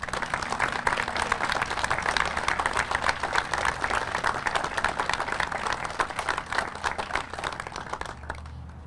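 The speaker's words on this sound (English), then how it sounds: "I give Dave and his team a great round of applause and recognition" An audience at a public works facility's grand opening and ribbon cutting claps in sustained, dense applause that holds steady for several seconds before tapering off at the end.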